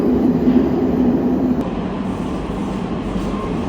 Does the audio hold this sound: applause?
no